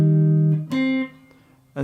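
Guitar playing a short phrase from a Ghost of Tsushima piece: a sustained low chord, then a second struck note ringing and fading, with another strike at the end.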